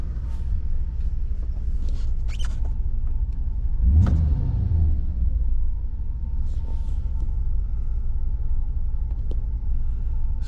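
A Mercedes 500SL's M119 V8 engine at low idle around 600 RPM gives a steady deep rumble throughout, with one brief louder swell partway through, heard close and without speech.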